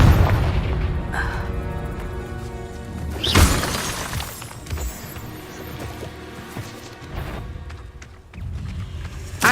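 Spell blasts from a Confringo fire spell in the Hogwarts Legacy video game during a fight with a giant spider, loud booming bursts with shattering crackle, one sharp hit standing out among several others in rapid combat.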